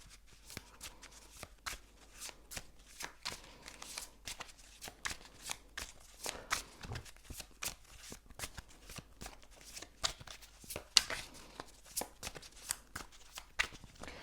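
Tarot-style archetype cards being shuffled close up, a string of crisp riffling bursts and soft taps repeating quickly with short gaps.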